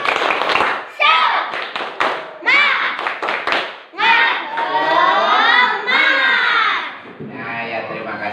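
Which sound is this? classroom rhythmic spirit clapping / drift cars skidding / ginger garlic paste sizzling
classroom rhythmic spirit clapping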